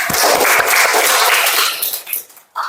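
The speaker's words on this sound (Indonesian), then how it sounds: "Tepuk tangan untuk Zara." Students in a classroom clap together as a reward for a classmate, producing a burst of dense, fairly loud hand-clapping that fades out after about two seconds, followed by a brief noise at the end.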